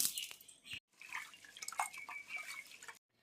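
About a hundred grams of lentils (dal) are rinsed in water for sambar: close, splashy swishing and dripping, broken by two brief pauses, with no talking.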